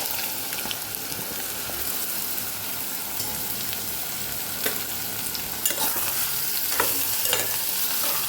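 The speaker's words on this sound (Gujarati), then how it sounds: "સરસ પહેલાં તેલ સાથે સાતળી લેવાનું છે, જે આપણે વઘાર કરેલો એમાં સાતળી લેવાનું છે।" Chopped bottle gourd and potatoes sauté in hot oil tempered with cumin and asafoetida, making a steady close sizzle with scraping stirs and scattered pops throughout, and no talk.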